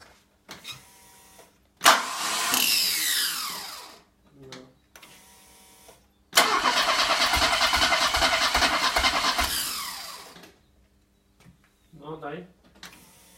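Mercedes-Benz C123 230 CE with the M102 engine on a second start attempt: two loud bursts of starter cranking and catching, the second longer and steadier, with brief quiet gaps and short voices between them.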